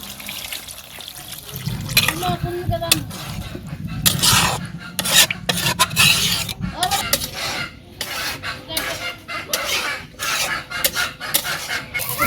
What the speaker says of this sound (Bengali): পানিটা দিয়ে দিলাম।